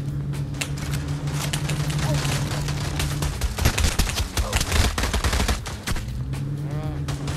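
Rapid bursts of automatic gunfire from a VR shooter game on Quest 3, loud and dense, with a sustained low hum underneath and crackling shots piling up during a gunfight.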